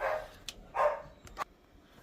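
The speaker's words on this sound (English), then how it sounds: "Sorry, the dogs were going crazy" Dogs barking indoors, three or four sharp barks at irregular intervals, moderately close, with no talking.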